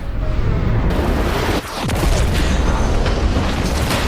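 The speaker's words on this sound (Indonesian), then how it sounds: "Smoke lantas menembakkan RPG-nya tepat ke arah Vera yang membuat Vera seketika itu juga terlempar dan jatuh dari ketinggian." An RPG round explodes in a Russian action war film: a loud, dense roar of blast and debris, a sudden drop, then another heavy rumbling wave that fills the scene.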